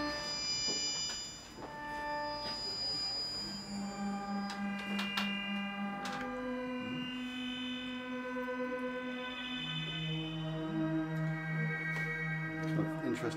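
Modular synth patch on an Expert Sleepers module producing a buzzy, Hoover-style tone, where layered harmonic notes glide and shift pitch, with sustained held notes over a continuous bed of sound and no speech.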